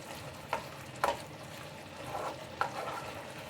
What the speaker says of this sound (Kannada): ಸ್ಪೂನ್ ಹಾಕ್ಕೊಂಡು ಚೆನ್ನಾಗಿ ಮಿಕ್ಸ್ ಮಾಡಿ ಒಂದ್ಸಲ